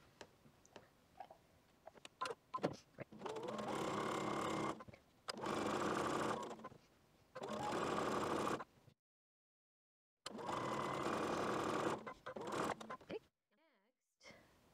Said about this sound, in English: we're going to go ahead and sew that 1/4 inch seam allowance around the outside